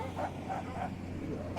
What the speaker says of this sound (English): the dogs barking outside